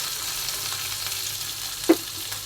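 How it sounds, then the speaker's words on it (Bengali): Green chillies fry lightly in a pan for a winter tomato chutney, with a continuous gentle sizzle and one sharp clink of the spatula against the pan near the end. "এখন এভাবে একটু হালকা ভেজে নিতে হবে।"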